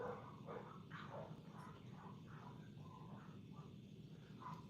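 A string of muffled barks from a dog, repeated rhythmically and heard at a distance over a steady low hum.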